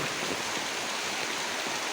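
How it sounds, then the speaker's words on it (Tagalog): Dense, steady hiss of heavy morning rain falling without pause, broad and even, with no voices. "Maulang umaga pa rin."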